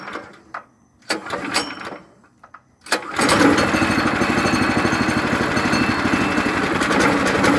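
A Predator 420cc engine on a golf cart is heard after a few seconds of scattered clunks and handling noise. It fires up and runs with a loud, steady, close chugging drone.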